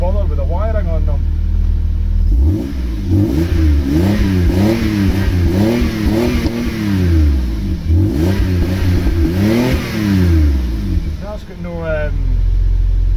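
A Vauxhall Senator CD 3.0 24V that runs poorly after months parked revs in a series of rhythmic blips, each rising and falling, then settles to a steady low idle, loud and close, with someone speaking briefly.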